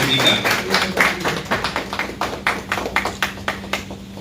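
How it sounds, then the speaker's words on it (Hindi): An audience at a hospital event in Bulandshahr applauds for several seconds, with a dense patter of claps that thins into scattered, uneven individual claps, fairly close and with no talking. "थोड़ा तालियों से प्लीज स्वागत करें सभी का"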